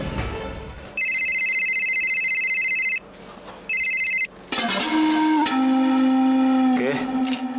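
A telephone ringback tone sounds during a call in a Bengali TV serial scene, with two long steady electronic ringing bursts followed by a louder shifting tone and background sound.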